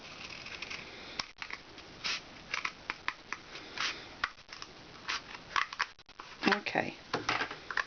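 Scissors snip through a cardboard kitchen roll tube in a string of short, close crisp cuts with irregular rhythm, mixed with light handling rustle and faint background noise.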